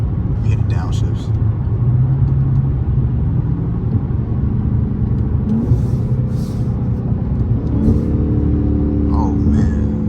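A Dodge Charger Hellcat with a mid-muffler-delete exhaust rumbles continuously through downshifts, its engine note stepping and shifting, with faint pops near the end of the gear changes. Quiet talk can be heard under the loud, close drone.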